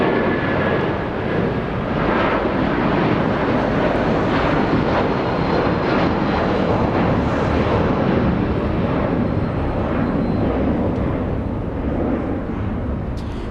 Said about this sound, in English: we have a 757 departing here in the south